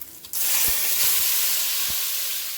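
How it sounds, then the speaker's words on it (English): Sofrito dumped into a hot pan for arroz con gandules sets off a loud, steady sizzle that bursts in after a quiet moment and keeps hissing, with a few soft low knocks of a spoon underneath. "there's just something about that sofrito hitting the pan"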